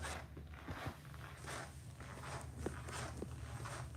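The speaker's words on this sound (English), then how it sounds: "Something with a zipper." Zipper on a shotgun gear bag sliding open and shut in a few quick rasping pulls, close by, with light handling noises between strokes.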